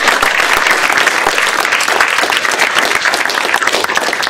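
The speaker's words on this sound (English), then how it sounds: "a big round of applause for the great questions they write and they give it out" Sustained audience applause at the 2014 ModelOFF Financial Modeling World Championship awards ceremony, a dense, steady wash of many hands clapping at even loudness throughout, with no voices over it.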